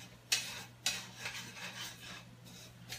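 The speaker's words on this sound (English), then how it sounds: "take the tongs, stir this up a bit" Tongs stir Cajun zucchini fries in a pan, giving soft scraping rubs and two sharp metallic clicks early on, then quieter shuffling over a steady low hum.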